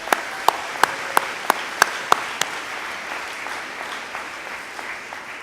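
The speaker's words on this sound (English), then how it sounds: "Round of applause." A graduation audience at Allendale Columbia School applauds, with sharp, evenly spaced claps standing out at first over a steady wash of clapping that thins and fades toward the end.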